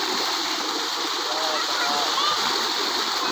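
Water gushes steadily from a solar-panel-powered farm tubewell, a loud, continuous rushing splash that holds at the same level throughout without pause.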